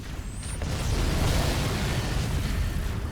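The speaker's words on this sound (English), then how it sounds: "the guy just jumped in the way of my grenade" A grenade goes off in the video game Halo: Combat Evolved: a sudden blast about half a second in, followed by a loud, sustained rumbling roar that fades only slightly to the end.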